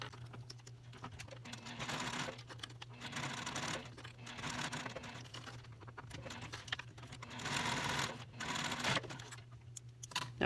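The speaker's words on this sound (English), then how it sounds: "Now I stitched just down across my center point there to seal that raw edge on the inside" A sewing machine fitted with a Teflon foot stitches vinyl for a vertical toiletry pouch, a close, steady whirring hum with rapid needle patter running continuously, pausing briefly once before resuming.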